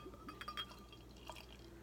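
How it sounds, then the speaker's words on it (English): Home-brewed beer being poured into a glass, a soft liquid trickle with a few faint clinks and fizzing bursts, quiet and close throughout. "Let's go ahead and get to pour."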